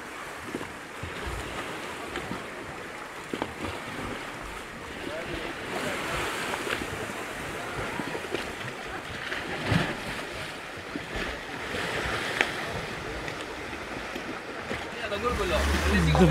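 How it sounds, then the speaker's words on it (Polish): A boat comes in to shore at Logas Beach, Corfu, amid steady waves and gusting wind noise, with people talking faintly in the background. "Kolejna łódź przybija"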